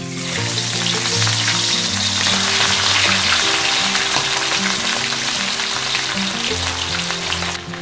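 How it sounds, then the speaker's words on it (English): Loud, continuous sizzling and crackling of a fish head frying in very hot oil, dense and steady from start to finish, with music underneath. "Fish head has been frying for about 15 minutes"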